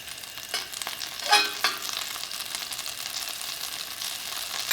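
About a tablespoon of butter sizzles and fries steadily in a saucepan over medium heat, a close, continuous hiss with a few brief louder crackles and stirring sounds.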